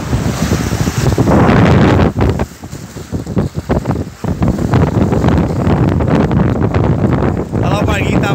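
Strong wind buffets the microphone over choppy waves on a lake, a continuous loud roar and wash of water with a few gusts dipping and surging, with no voices heard.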